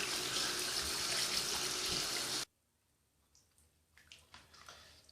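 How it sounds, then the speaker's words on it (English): A loud stream of tap water pours into a sink over an exhaust fan part being washed, then cuts off abruptly halfway, leaving faint drips and small handling clinks in a quiet room. "we're going to go clean this in the sink"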